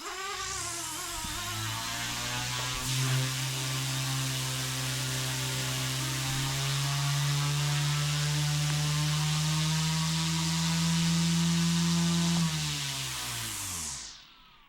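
OMPHOBBY M2 EVO MK2 RC helicopter spinning its rotor at lowest RPM, a steady close electric whine with a low droning hum that holds for about twelve seconds before winding down.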